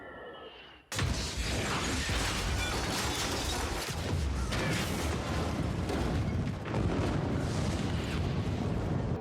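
Loud, dense rumbling blasts of a bombing raid in a Peaky Blinders film, bursting in abruptly after a quiet moment and rolling on as a continuous wall of explosions and crashing debris.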